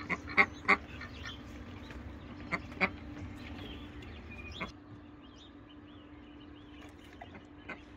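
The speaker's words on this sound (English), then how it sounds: "Duck." Duck quacking indoors during lockdown in New Zealand, a handful of short, fairly close quacks in the first few seconds, then sparser soft calls over a low steady hum.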